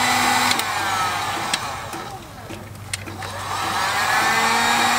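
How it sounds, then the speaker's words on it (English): A heat gun blows steadily at close range to shrink heat-shrink wire connectors on a remote switch for a Jeep air compressor. Its even whooshing roar dips briefly in the middle, with a few small clicks and no voices. "We're just going to heat them up with the heat gun, shrink that around that so they'll never come out."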